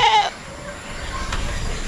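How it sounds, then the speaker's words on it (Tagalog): Goats bleating in a farm pen: one short, loud, wavering bleat at the start, followed by quieter pen ambience with faint distant animal sounds. "siyam yung kambing natin dito"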